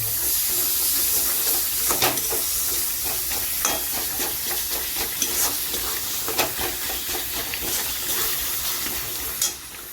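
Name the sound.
spices and chopped tomatoes frying in oil, mutton bhuna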